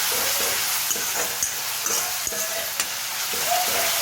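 Fresh fenugreek leaves sauté in a pan with a constant sizzle, broken by a few light clicks and scrapes of stirring.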